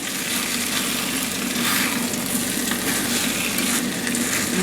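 Chicken frying in cooking oil in a pan, a steady dense sizzle and crackle that holds constant and close throughout, with no voices.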